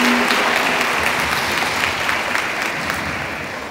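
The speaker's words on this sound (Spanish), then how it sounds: "un fuerte aplauso para la MUNI de Patzún" Loud, sustained applause from a conference audience in Patzún, Guatemala, a dense steady wash of clapping that fades slightly toward the end.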